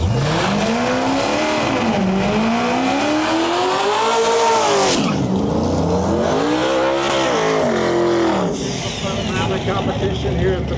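Modern Muscle class drag race cars launch at a drag strip with loud, rising engine roar and revving that sweeps up through the gears, tires squealing, while an announcer talks over the din.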